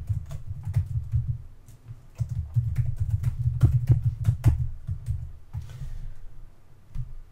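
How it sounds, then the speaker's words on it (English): Someone types a git config command on a computer keyboard in Windows 10, producing steady, close key tapping in quick runs with a couple of short pauses and a few sharper keystrokes. "then within quotes you type your name"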